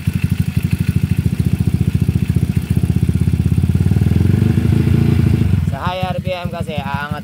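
A motorcycle engine runs with a steady, rapid rhythmic clatter from a faulty starter bendix on the side, loud and close for several seconds before it drops away and a voice speaks.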